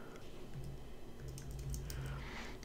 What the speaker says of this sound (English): We're going to type in span and then class